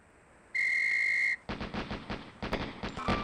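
In the Police Quest SWAT video game, a sharp range whistle sounds for almost a second, followed by a rapid series of close, loud pistol shots fired in quick pairs.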